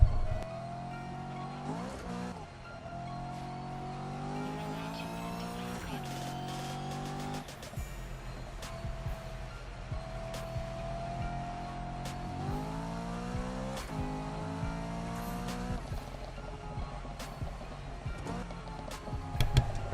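A BMW M3 in the video game Need for Speed 2015 accelerates hard, its engine rising in pitch through repeated gear shifts with brief drops between, loud and steady throughout with occasional tire noise.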